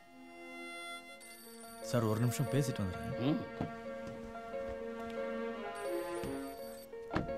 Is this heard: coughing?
no